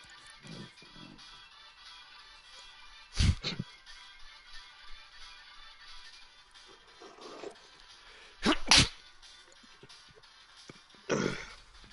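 A single person sneezes sharply during a quiet game-modeling session, the burst close and loud against faint background, followed by brief muffled noises; a few other short bursts occur around it.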